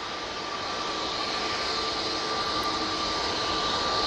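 An Airbus A320neo with Pratt & Whitney engines passes overhead at Manchester Airport, a loud, steady jet roar with a thin high whine running through it, building gradually with no talk.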